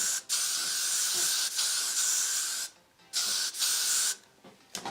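Hairspray hissing from an aerosol can onto a hard front wig in several bursts of steady close spray, with short gaps between them and a brief final spritz.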